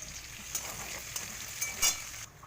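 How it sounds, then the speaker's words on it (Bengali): Chopped onions with cardamom, cinnamon and cloves fry in hot oil in a kadai, giving a steady close sizzle with a few brief louder crackles and no talking. "এবার পেঁয়াজ দিলাম কড়াই, পেঁয়াজগুলো লাল লাল করে ভাজা হবে।"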